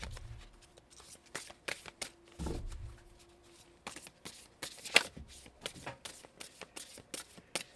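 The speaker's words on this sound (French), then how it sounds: "je coupe et je prends la première carte" Tarot cards shuffled and cut by hand at close range: a quiet run of crisp, irregular snaps and flicks, a soft papery rustle early on, then separate sharp card taps spaced through the rest.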